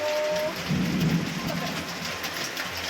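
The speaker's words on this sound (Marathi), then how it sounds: "कसला मोठा पाऊस आलेला आहे" Heavy monsoon rain pours down in Kolhapur city, a steady dense roar of drops striking surfaces throughout with a low rumble near the start.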